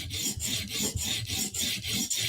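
A knife blade is drawn repeatedly across a sharpening stone in steady, even strokes, each pass a close, gritty rasp separated by brief pauses, with about seven passes and no voices.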